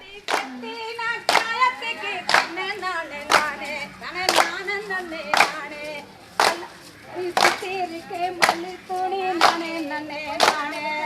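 Rhythmic hand clapping for Kummi, a Tamil Nadu folk dance, sharp claps falling in a steady repeating beat about once a second while voices sing along throughout.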